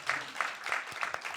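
A church congregation claps steadily in welcome for a young visitor at a Sunday morning service, a brief stretch of evenly paced applause filling the room.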